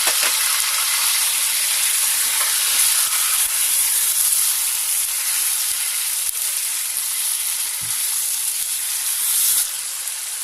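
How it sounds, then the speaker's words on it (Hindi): Ginger garlic paste fries in a pan for Russian korma, giving a steady, bright sizzle and hiss that runs unbroken and fairly close, with no talking. "इसमें जिंजर गार्लिक पेस्ट डाल देंगे और वो डालने के बाद में अच्छे से हम इसे भूनेंगे"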